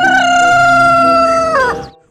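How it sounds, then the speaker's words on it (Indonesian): A rooster crows in a single sustained call lasting about two seconds, loud and close, with a falling tail at the end and no voices. "Ini ayam jantan,"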